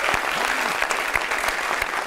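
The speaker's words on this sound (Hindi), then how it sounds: "मैं आपके लिए ताली बजा रहा हूँ" Studio audience applause on a talk show: steady, close clapping from a crowd, continuous throughout with no speech over it.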